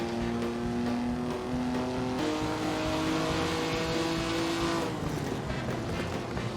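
A Maserati racing car in Assetto Corsa, driving a 1955 Formula One race in Argentina: a loud, steady engine drone with shifting pitch that rises and then eases off as the car slows, alone and close.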